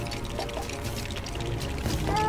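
Water pours steadily in the Lego Marvel Super Heroes video game, a continuous splashing stream running through the whole short stretch over a busy game soundtrack.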